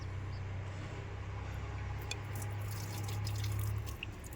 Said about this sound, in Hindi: ये देखिए मैं इस पाइप में पानी भर रहा हूँ।